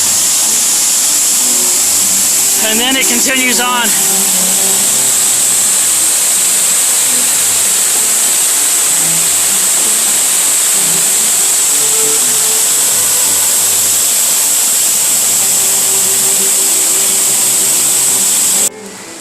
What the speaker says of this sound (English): Here's that same waterfall from the top.